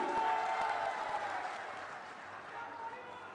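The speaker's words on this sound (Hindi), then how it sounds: "जोरदार करताली दियंतु।" A crowd at a political gathering in Odisha bursts into applause, a broad wash of clapping that is loudest at the start and gradually thins out, with voices mixed in.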